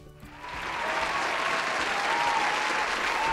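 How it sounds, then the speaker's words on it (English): A crowd applause sound effect played during a Stardew Valley session: dense clapping swells in within half a second and holds at a steady, loud level to the end, with no voices over it. "crowd clapping sound effect, because apparently round of applause"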